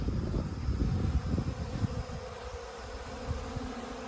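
Honey bees around hive boxes, agitated and cranky, make a dense, steady buzzing swarm close by, loud at first and easing slightly, with no voices.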